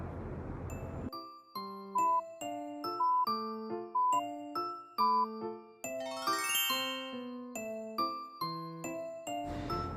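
Bright ding-dong-dang correct-answer chime in a children's vitamin nutrition lesson, a repeating series of clear bell-like tones that descends and rises over a steady rhythm, loud and alone with no talking.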